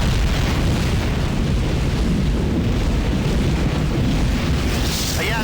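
A dense, continuous rumbling roar of an explosion aboard a starbase in the space game Tachyon: The Fringe, loud and sustained throughout without distinct separate blasts.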